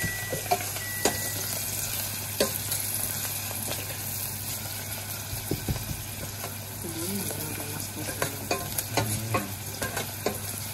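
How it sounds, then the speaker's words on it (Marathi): Chopped onions and a little coriander frying in hot tempering oil in a home kitchen, with a continuous close sizzle and occasional spoon scrapes and stirring clatter. "त्यावरती आपण टाकूया कांदे आणि थोडीशी कोथिंबीर तडक्यामध्ये"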